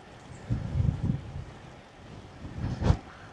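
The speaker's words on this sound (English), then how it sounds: "the wind's really strong today" Strong gusting wind buffets the microphone on a road bike ride in Perth, swelling in two louder rumbling bursts with quieter blowing between.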